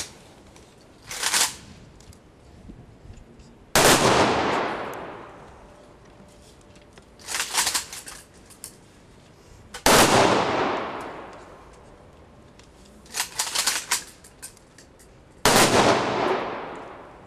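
Military gun salute at a memorial ceremony for fallen Ukrainian defenders in Khmelnytskyi: five sharp rifle volleys ring out a few seconds apart, each leaving a long echoing decay, with ragged smaller volleys in between.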